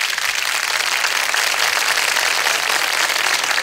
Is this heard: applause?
yes